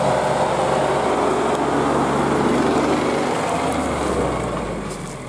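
A Sobol 4x4 van's diesel engine drones loudly and steadily while driving along a mountain ridge road, with a continuous broad roar that eases slightly toward the end.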